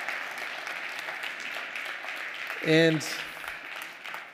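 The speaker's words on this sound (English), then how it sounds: "I want to ask you for an applause to all our panelists" An audience at a working session on a greener ICC applauds the panelists, steady clapping throughout, briefly overlapped by a spoken voice partway through.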